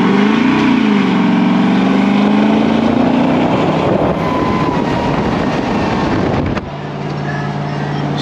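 A 1964 Ford F100 pickup cruises at about 70 mph with a loud, steady engine and road drone. Engine pitch sweeps gradually, then drops sharply near the end as the transmission shifts.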